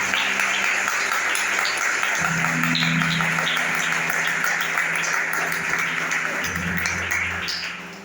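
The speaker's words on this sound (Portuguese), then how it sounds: "Dá uma salva de palmas bem forte para Jesus, bem forte." A church congregation claps steadily and strongly, many hands together in a sustained roomy wash, with low organ or keyboard tones sounding underneath and the applause tapering off at the end.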